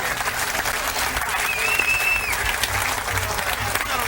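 An appreciative crowd at a bowling tournament, the 1998 ABC Senior Masters, applauds the winner with sustained, loud, dense clapping throughout, with a faint voice briefly audible beneath it.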